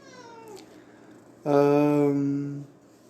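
An agitated cat at night gives a faint falling meow, then after a pause a loud, drawn-out yowl lasting just over a second, close and clear.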